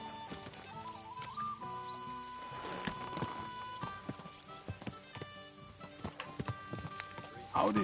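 Horse hooves in the video game Kingdom Come: Deliverance II, a run of clip-clop steps at a walking rhythm over soft background music, with a brief horse snort or whinny near the end.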